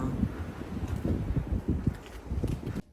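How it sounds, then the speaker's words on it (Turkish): Strong gusty wind buffets the microphone in low rumbling bursts, with faint rustling behind, continuous for a few seconds before cutting off. "Aşırı bir rüzgar bu ne ya?"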